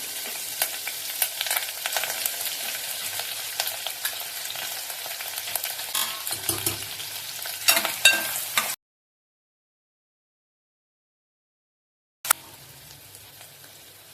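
Curry leaves and onion crackle in hot oil for the tempering of a cowpea amti. A dense, close, continuous sizzle with stirring runs for about nine seconds, stops for a few seconds of silence, then returns abruptly.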